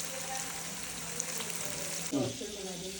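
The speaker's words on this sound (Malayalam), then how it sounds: "ഇവിടെ ബ്രാൽ ഇങ്ങനെ വറുത്ത് വെച്ചേക്കണു" Snakehead fish (varal) frying in a pan gives a steady, soft sizzle of oil, and a brief louder crackle and stir sound comes near the end.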